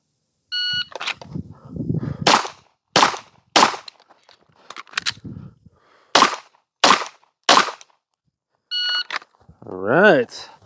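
Pistol shots fired during a shooting qualification drill: several sharp, loud cracks in quick groups of two or three, separated by pauses, with timer beeps at the start and someone speaking in between.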